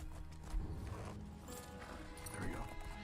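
A horse in the video game Skyrim clops along with rapid hoof thuds amid game ambience and a low, faint mix, with a voice talking at moments.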